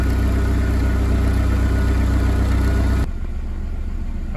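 A VW Polo 6N2 with a refurbished exhaust line idles with a steady, loud low rumble that drops in level partway through, then keeps running more quietly to the end.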